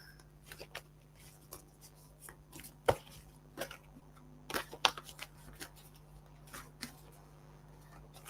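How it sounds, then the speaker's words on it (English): Tarot cards being shuffled by hand during a reading, with soft irregular riffles and taps, a couple of sharper snaps, close but quiet against a faint steady hum. "so let's pick a card for Norma."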